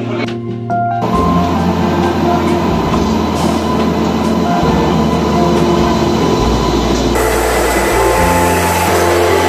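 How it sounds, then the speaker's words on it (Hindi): A passenger train departing Haridwar for Mumbai, its loud, steady rumble and wheel drone filling the clip after a brief quieter start, with shifting tones as the cars roll along and no talk. "ये ट्रेन यहाँ से चल रही है, प्रस्थान हो रही है मुंबई के लिए।"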